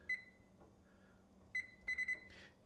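A kitchen timer used while canning dill pickles in a hot water bath gives a few sharp electronic beeps: one short beep, then a second burst of several rapid beeps, close and clear over quiet room tone.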